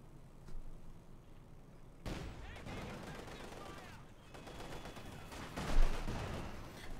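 Battle noise from the World War II strategy game Company of Heroes 2 comes through as rapid gunfire and rattling bursts that start abruptly and keep up in a dense, fairly quiet wash, with a sharper burst near the end.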